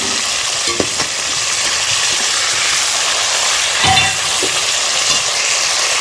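Chicken karahi sizzling in a pan with ginger garlic paste: a steady, loud broadband frying hiss with occasional scraping stirs and small pops.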